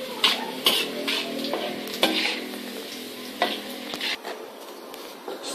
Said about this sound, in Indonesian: Digoreng terlebih dahulu hingga matang atau hingga berwarna kecoklatan.